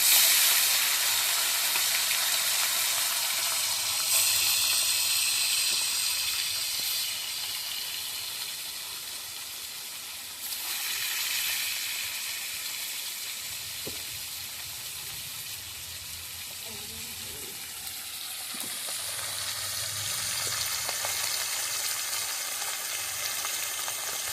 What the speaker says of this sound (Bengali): আমাদের তেল গরম হয়ে গেছে। এবার আমরা মাছটা ভেজে নেব।